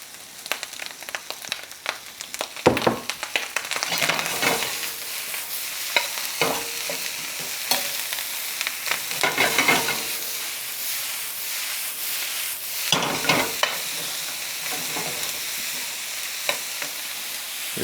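Corn with mixed vegetables sizzles steadily in a hot frying pan, with repeated scraping stir strokes coming through clearly over the continuous fry hiss.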